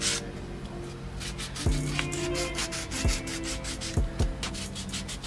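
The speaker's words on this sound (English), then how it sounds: "we'll sand all these blocks" Wooden blocks being sanded by hand, a rhythmic rasping rub of strokes close by, with a few sharp knocks of wood set down in between.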